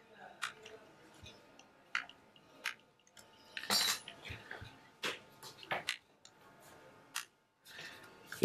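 Plastic back cover of a Xiaomi Redmi 9A phone being pried loose from its frame: sparse, quiet, close-up clicks and small snaps at irregular intervals, with a brief scraping burst partway through.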